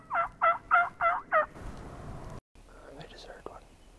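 A wild turkey gobbles five times in a rapid run of rattling calls, fairly close, during a hunt, followed by quiet outdoor rustling and a faint whisper.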